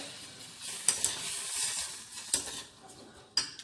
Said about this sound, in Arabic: غادي نقص العافيه وغنبدا نحرك